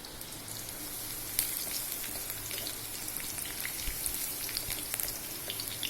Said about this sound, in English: Let the lasun or garlic redden a bit.